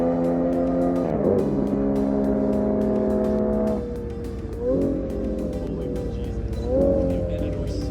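Sports cars drag racing on an airstrip, with a Lamborghini Aventador roaring at full throttle, engine pitch climbing through gear changes and dropping off, loud and close at first and fading into the distance.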